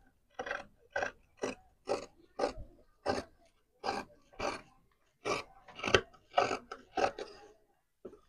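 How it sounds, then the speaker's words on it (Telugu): Rhythmic crunching snips of scissors cutting fabric along a marked line for puff sleeves, about fifteen close, evenly spaced cuts with brief pauses between strokes and no talk. "ఇప్పుడు ఈ మార్కింగ్ ఎట్లుంటే అట్లా కటింగ్ అయితే చేసుకుందాం"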